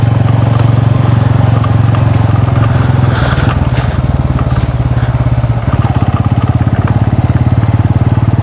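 An adventure motorcycle rides a rough, broken rural road in West Bengal, its engine droning loud and close throughout with rattling clatter over the bumps.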